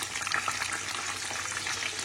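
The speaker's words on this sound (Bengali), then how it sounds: "যা তোমার পছন্দের চিকেন স্ট্রিপস ভাজা হচ্ছে, সাথে চিকেন নাগেটস" Chicken strips and nuggets fry in hot oil, a dense, continuous crackling sizzle with small pops that stays steady and close throughout, with no voices.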